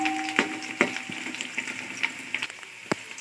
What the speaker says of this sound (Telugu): మంచిగా వేగుతున్నాయి కదా.